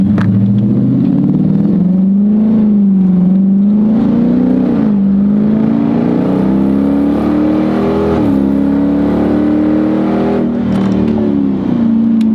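A car that pulled up alongside accelerates hard as if to race, its engine roaring loud and close with a rising, shifting pitch that carries steadily for about twelve seconds, with no talking.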